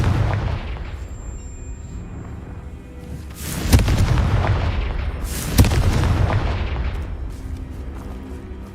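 Confringo fire spell explosions in Hogwarts Legacy sound as two sharp booming blasts over a low rumbling game background, each followed by a fading roar.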